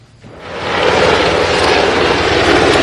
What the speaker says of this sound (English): In a Black Hawk helicopter, Jessica Lynch circled over her house in tow